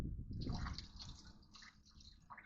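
Hot water is poured from a pan onto a crusty dinner plate, giving a close, steady splashing and trickling wash that lasts the whole moment, with no talking.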